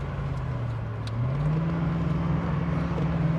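A classic Corvette convertible drives down the road with a steady mid-pitched engine hum that rises slightly as it pulls away, heard from inside the car over constant road and wind noise.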